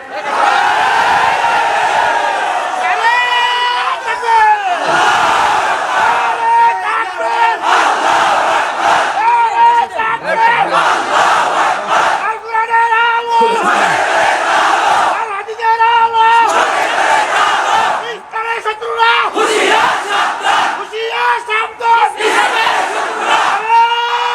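A huge crowd at an open-air Islamic religious gathering in Bangladesh chants the takbir in loud, surging waves of massed voices. The call-and-response bursts swell and fade repeatedly, filling the space.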